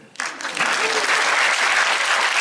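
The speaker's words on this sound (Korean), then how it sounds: "삼성 이재용 구속하라면 원래 박수치고 그러는데" Audience at a Korean political speech breaking into applause, the clapping swelling quickly from a quiet start into a loud, dense, steady roar of many hands.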